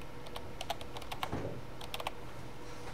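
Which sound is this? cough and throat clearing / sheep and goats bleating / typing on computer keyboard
typing on computer keyboard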